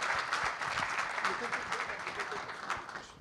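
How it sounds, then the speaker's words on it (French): An audience at a conference side event on African small businesses claps for a panel, a soft, moderately dense patter of applause that stays fairly quiet, with some background voices mixed in. "Applaudissez, s'il vous plaît, les panélistes."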